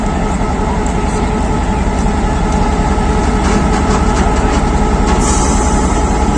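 Chenab Express passenger train of Pakistan Railways pulling out of Lalamusa station, a loud continuous rumble of engine and rolling wagons with steady rhythmic clatter.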